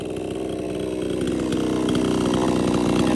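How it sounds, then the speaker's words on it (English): Chainsaw running steadily and loud while cutting through wood, a continuous buzzing drone that grows slightly stronger and rougher over the last half, heard up close with no talking. "It's done with a chainsaw, free-spirited."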